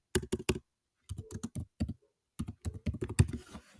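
Bursts of typing on a computer keyboard while a code comment is entered in a browser-based Python editor, key clicks arriving in quick clusters separated by short pauses, close and clear with no talking.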